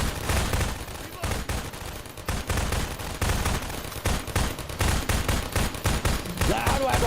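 Weapons fire in Half-Life 2: Episode Two in rapid, repeated bursts of loud gunshots across the whole stretch, close and dense with brief gaps between volleys.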